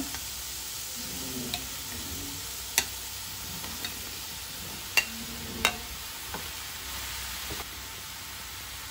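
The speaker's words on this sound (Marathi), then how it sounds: "एक 2 मिनटां सॉटे जातकूच तातूंत आमी आतां कट केलेले घोसाळ्याचे कुडके घालया." Pieces of ridge gourd sautéing in a pan for a Goan-style stir fry: a quiet, even sizzle with occasional sharp clicks and scrapes as the pieces are stirred.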